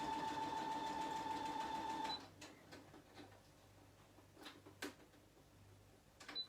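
A sewing machine double stitching through a paper page runs with a steady whirring buzz for about two seconds, then stops, followed by quiet clicks and handling of the paper, close and fairly faint.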